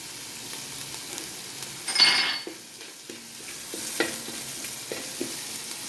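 Garlic frying and being stirred in a pan for non-veg noodles, a soft sizzle with a sharp scrape around the middle and light clinks of the utensil against the pan, with no voices.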